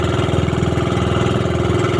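A boat's diesel engine, one engine running, idles steadily nearby, a loud low chugging thrum with a regular pulsing beat and no talking.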